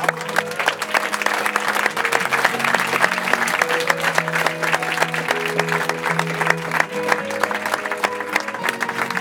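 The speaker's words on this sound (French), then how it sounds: "vous méritez largement ces applaudissements" Sustained audience applause at the close of an episode of a French apprentice competition programme, a dense steady wash of many hands clapping with faint voices and a few tonal notes mixed in beneath.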